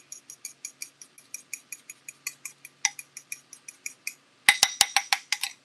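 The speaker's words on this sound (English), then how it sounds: "Egg yolks from earlier. And I'm gonna whisk them up." Egg yolks whisked in a bowl for a coconut sugar banana pudding, a steady run of quick metallic clinks with a few louder, sharper taps near the end, close and without speech.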